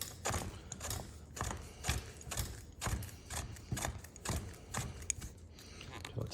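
Hand-tightening a threaded part back onto a leg of a FirstE 48-inch foldable fitness trampoline, a steady series of close, repeated ratcheting clicks and scrapes in an even rhythm, with no talk over it.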